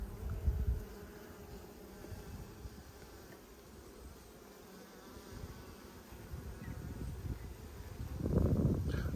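Honey bees buzz steadily throughout an open hive inspection by an Australian beekeeper working a nucleus colony, the drone close and continuous with louder swells at the start and end.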